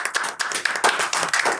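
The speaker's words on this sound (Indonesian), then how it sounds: "Kasih tepuk tangan yang paling meriah untuk Bang Lukman Nur Hakim SH." An audience claps for Lukman Nur Hakim, an advocate and Perindo party politician, at a Lampung election event: a short burst of dense, steady applause, close and lively, with no talk over it.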